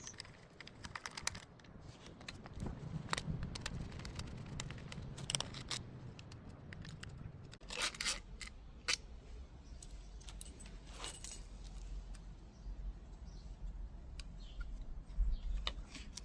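Two screws are being unscrewed from the air cover of a small engine such as a trimmer or blower, giving close, faint clicks and scrapes of metal and plastic spread across the clip with no speech.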